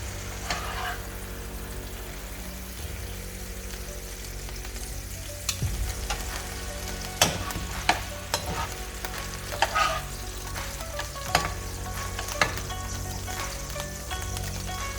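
Thin slices of beef bulgogi, Korean beef BBQ, fry in a hot pan with a dense, steady sizzle. Sharper scrapes and clicks of stirring break through now and then, close and fairly loud.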